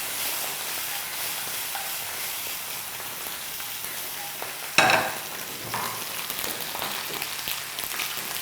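Steady crackling sizzle of sausages frying in a hot pan, continuous throughout with one brief louder burst of spitting midway.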